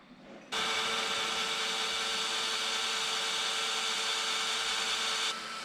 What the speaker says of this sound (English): working on drilling the bolt out right now